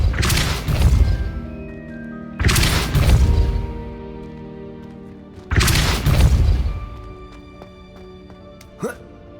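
Depulso spell impacts in the Hogwarts Legacy video game, three heavy booming blasts spaced a few seconds apart, each ringing out with a lingering tail, followed by a small sharp hit near the end.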